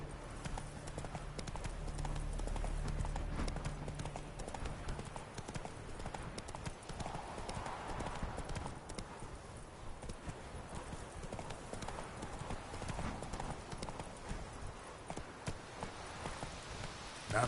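Horse hooves clip-clop steadily in The Witcher 3 as the mount walks, with a continuous rhythmic patter over game ambience and a brief low musical hum early on.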